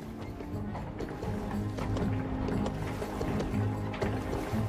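A donkey walks in circles turning a wooden gear mechanism of interlocking wooden pinions that drives a water wheel, giving steady rhythmic clopping and creaking with low mechanical rumble throughout, under a faint voice.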